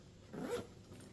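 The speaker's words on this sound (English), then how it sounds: "We have a zipper compartment." A zipper on a handbag compartment being pulled open or closed, one short soft rasp lasting under a second, quiet and close with no talking.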